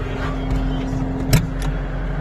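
An old machine's engine idles steadily in cold weather while warming up, giving a constant low rumble close by with a brief knock partway through.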